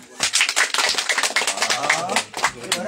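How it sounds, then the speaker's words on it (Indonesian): Audience clapping at a Bali community gathering, a crisp crowd of hand claps with quick irregular rhythm, fairly close and loud throughout. "tepuk tangan"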